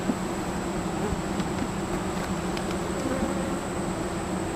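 Honeybees hum steadily around a hive during a honey harvest on a North Carolina farm, a continuous buzzing drone without pause and with no talk over it.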